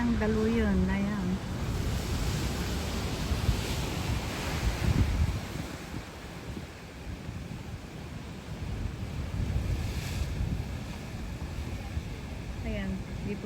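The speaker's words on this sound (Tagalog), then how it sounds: "At yung hampas ng daluyon." Waves surge and crash against rocks at Cape Collinson bay, a steady broad roar of surf with swells of louder wash, mixed with wind buffeting the microphone; a voice talks briefly over it.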